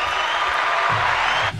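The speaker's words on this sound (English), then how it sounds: "I need like 40 seconds of applause" Applause from a show audience: a short, dense burst of clapping that lasts under two seconds and cuts off abruptly at the end.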